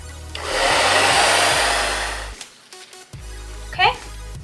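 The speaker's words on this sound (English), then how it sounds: "Just keep it like this and use a blow dryer." A blow dryer whirs steadily and loudly for about two seconds while drying a repaired, still-wet makeup highlighter in its case, then cuts off and briefly starts again.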